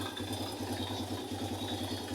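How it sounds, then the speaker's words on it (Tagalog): Racal MD100 motorcycle engine idling after a fuel line cleaner treatment, a steady close low throb with an even pulsing rhythm, no talking. "Pinagana natin yung makina."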